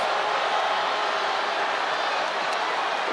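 Steady roar of a large arena crowd in the WWE 2K25 wrestling video game, a continuous broadband wash of cheering that holds evenly throughout without breaks.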